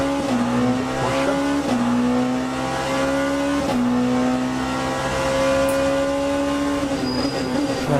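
Onboard a Porsche hypercar lapping Imola in the Le Mans Ultimate racing game, the engine drones loud and steady, pitch rising through each gear and dropping sharply at the shifts, with no voices.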